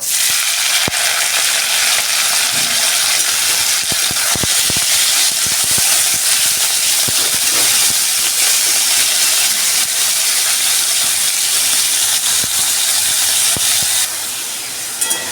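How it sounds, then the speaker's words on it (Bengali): Chicken mince with ginger, garlic and green chili paste fries in hot oil for a mixed chow mein, a loud, steady broadband sizzle and hiss with scattered crackles and spatula scrapes, close and continuous throughout. "হালকা করে চিকেন কিমাটাকে ভেজে নেব যতক্ষণ না জলটা শুকিয়ে যাচ্ছে।"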